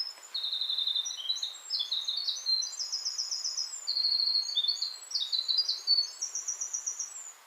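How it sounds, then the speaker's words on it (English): A winter wren sings a long, rapid cascade of high trills and twitters, bright and close, without pause against a quiet background in a mountain forest along the Appalachian Trail near Franconia. "That's one beautiful winter wren."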